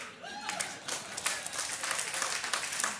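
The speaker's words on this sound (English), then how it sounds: "I think we can clap louder for that." A church congregation applauds, with dense, quiet clapping that swells and holds steady while a voice rises briefly at the start.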